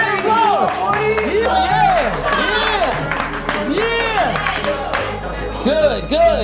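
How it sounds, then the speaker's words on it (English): An indoor community-gathering audience claps and cheers together while upbeat music plays loudly and voices call out over the applause. "Give yourselves a round of applause."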